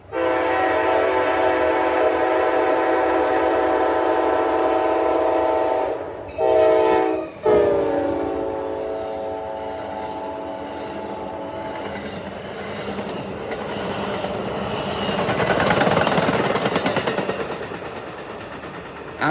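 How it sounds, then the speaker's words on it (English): Amtrak Crescent passenger train rolling past, a loud sustained multi-tone horn chord sounding for several seconds, then breaking off briefly before wheel and rail noise takes over as the cars pass close by. "After the 4-hour late Amtrak Crescent went by"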